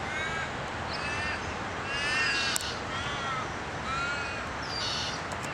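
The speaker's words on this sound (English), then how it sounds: "but I have found a crow," Crows caw repeatedly in a Perth outdoor setting, harsh calls arriving in loose bursts at moderate distance over steady background ambience.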